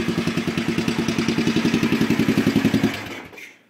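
A Yamaha 500 single-cylinder thumper motorcycle idles right after a cold start, its loud, close, evenly spaced chuffing pulses thumping in steady rhythm for about three seconds before the engine cuts and fades out.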